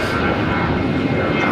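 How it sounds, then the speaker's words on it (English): A heavy Boeing 767 jet departs the runway at LAX, heard as a steady, loud, broadband engine roar with no breaks. "caution wake turbulence, heavy Boeing 767 will depart parallel on the 25 left"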